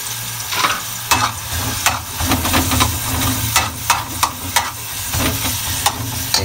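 Garlic sautés over medium heat in a pan, a loud, close, steady sizzle with frequent sharp spatula scrapes and taps in an irregular rhythm, no talking.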